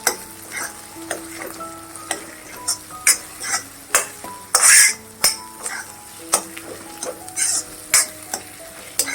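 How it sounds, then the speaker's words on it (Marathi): Green chilli thecha sautéing in oil in an iron kadhai, a steady sizzle broken by repeated sharp scrapes and taps of a spatula stirring at a brisk, uneven rhythm, close and clear with no talk. "चांगलं परतून घ्यायचं जो काय कच्चटपणा असतो तो निघून जातो खमंग होत तेलाबरोबर भाजल्यामुळे"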